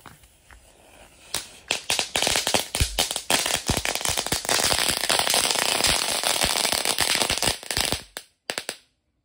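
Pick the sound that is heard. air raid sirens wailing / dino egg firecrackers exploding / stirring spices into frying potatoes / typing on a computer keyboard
dino egg firecrackers exploding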